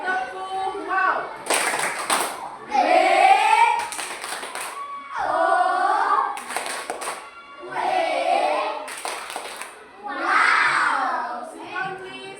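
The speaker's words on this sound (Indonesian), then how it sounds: "kita tepuk wow untuk kelompok 3. Tepuk wow." Schoolchildren in a primary classroom perform a rhythmic clap chant for a group, with bursts of sharp unison clapping alternating with shouted chanting voices, repeated several times, close and loud.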